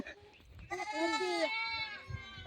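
A single goat gives a loud, drawn-out bleat up close, with faint voices and handling noise around it.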